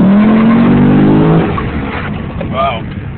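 A Pontiac GTO's engine accelerates hard, with a rising, loud engine whine in the first second and a half before it fades under a rumbling roll, close by, with a voice in the background.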